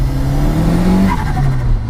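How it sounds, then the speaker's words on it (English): A loud modified 226 BHP Ford Escort RS Turbo with a screamer pipe revs hard under acceleration, with a rising roar and a brief squeal of tyres spinning on the road. "that was just spinning the tyres up at national speed limit"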